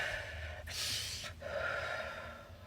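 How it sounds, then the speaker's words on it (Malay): A deep breath is drawn in through the nose and mouth, a breathy rush that swells, pauses briefly, then continues into a second long inhale, close and fairly soft. "Yuk tarik nafas ya."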